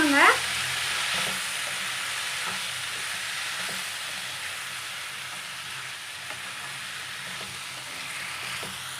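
Chopped tomatoes sautéing in oil for Tamil-style tomato chutney, a steady soft sizzle and hiss from the pan after an initial clatter, with faint occasional stirring scrapes.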